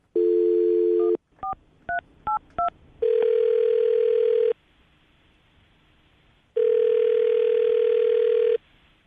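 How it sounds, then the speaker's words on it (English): A telephone dial tone hums, then a quick series of touch-tone beeps, followed by two long ringing tones separated by silence. "I'm going to dial the phone number right now."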